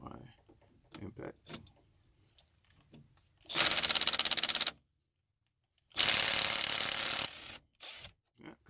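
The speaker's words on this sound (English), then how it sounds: "We're going to remove the bolts holding on caliber, which are 14mm. I'm going to use my impact." An impact wrench loosens 14mm front brake caliper bolts on a 2004 Chrysler Pacifica in two loud, rattling bursts of about a second each, separated by a pause, with quieter clatter and low voice around them.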